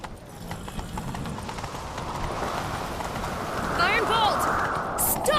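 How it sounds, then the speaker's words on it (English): A horse gallops in The Witcher 3 video game, its rapid clip-clop hoofbeats pounding steadily and growing louder, with brief game sounds layered on top toward the end. "Grab a horse, we'll chase him down."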